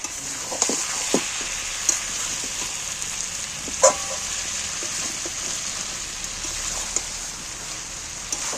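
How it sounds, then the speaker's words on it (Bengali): Tomatoes frying in hot oil in a pan for a jackfruit curry, a steady close sizzle with a few sharp pops and spatters scattered through it. "এইবার আমি টমেটোগুলো তুলে দিচ্ছি"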